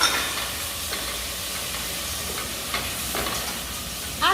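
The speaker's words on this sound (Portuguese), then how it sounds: "Aí, deu uma tostada nesse arroz, eu acrescento vinho branco seco." Dry white wine is poured onto toasted risotto rice in a hot pan, giving a steady loud sizzling hiss with faint stirring scrapes, close and without talking.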